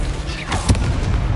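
A spell cast in Hogwarts Legacy, a disarming blast, lands as a single booming impact near the middle, a sharp burst that rings briefly over a dense, constant wash of game noise.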